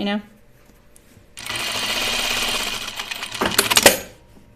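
Sewing machine stitching rows through thick quilting cotton for blouse pleats, a steady loud mechanical whirring run of about two and a half seconds with a brief clattering burst near the end, after a short voice at the start.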